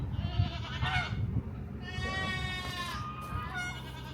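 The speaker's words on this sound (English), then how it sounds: "Oh, they are dying, these goats." Two wavering goat bleats, fairly close, one drawn out and the next following soon after, over a low outdoor rumble.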